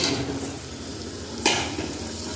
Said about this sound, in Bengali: এখন ধুয়ে রাখা কুমড়ো আলুগুলো দিয়ে